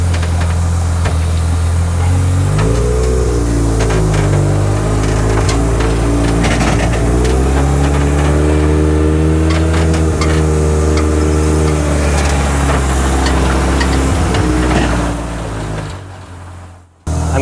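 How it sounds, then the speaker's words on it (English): A Willys Jeep fitted with power steering drives along a road, its engine droning loudly and steadily close by with pitch swells as it accelerates and eases off, cutting out abruptly at the end. "We're gonna go for a little Jeep ride"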